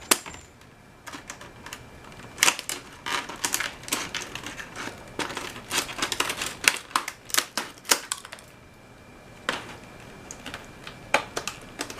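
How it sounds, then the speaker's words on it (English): Scissors cut open a hard plastic clamshell case holding a CMMG AR-15 .22 LR conversion kit, giving a steady run of crisp snips, crackles and sharp plastic snaps up close, with no talk over them. "Sometimes scissors work on these plastic cases better than a knife."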